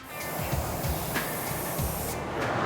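A paint spray gun hisses steadily and close, laying metallic base coat on a Fox Body Mustang in a continuous broadband rush with slight fluctuations and no talk.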